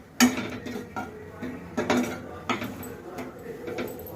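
Almond powder and coconut powder being dry-roasted in a pan, heard as a series of moderate scraping and clattering strokes of a utensil against the pan in an uneven rhythm, with no clear sizzle.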